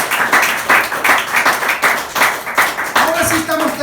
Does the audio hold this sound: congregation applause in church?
yes